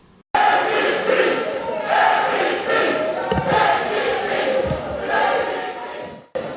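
Supporters cheer as an election result is announced, a loud, sustained crowd roar of shouts and whoops with some clapping, steady for several seconds before cutting off abruptly.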